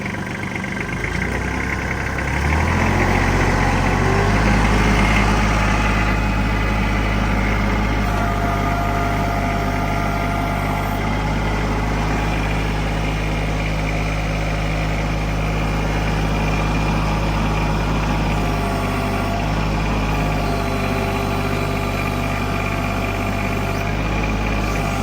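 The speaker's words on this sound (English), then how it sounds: "I'm gonna crank up the throttle here." A Kubota L3130 tractor's diesel engine, throttle cranked up, runs with a loud, steady, close drone that rises early on and then holds constant.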